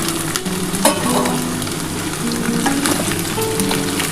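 Soya chunks and duck eggs fry together with potatoes in a hot pan, making a loud, steady close-up sizzle with scraping and stirring noises throughout.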